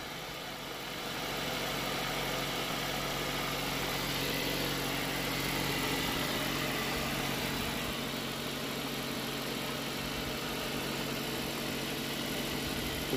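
A rebuilt Ford Mondeo Duratec 2.0 engine cranks, catches and settles into a steady, even idle, a continuous close mechanical hum with light vibration and no talking over it.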